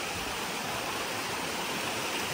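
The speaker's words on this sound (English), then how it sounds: "We're getting ready to cross the beautiful Hurricane River. I'm assuming it's beautiful because the bridge is nice and I can hear it loud and clear." The Hurricane River rushes under a footbridge near where it flows into Lake Superior, a loud, steady, broadband roar of flowing water that fills the whole moment without a break.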